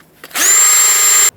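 A wire wheel spun by a drill scrubs corrosion off the steering knuckle of a 2000-2005 Ford Excursion during a ball joint job: one short, loud, high-pitched whirring burst with a steady whine, starting and stopping abruptly.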